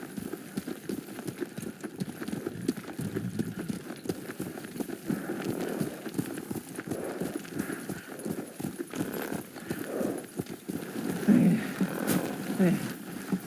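Horse hooves galloping in the video game Ghost of Tsushima, a fast steady clip-clop rhythm that runs throughout, close and moderately loud under faint background sounds.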